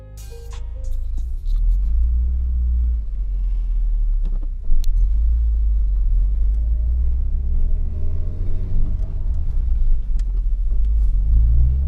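An Opel Calibra on a road test right after a brake master cylinder replacement, its engine and tyres giving a steady low rumble heard from inside the cabin, loud and continuous throughout.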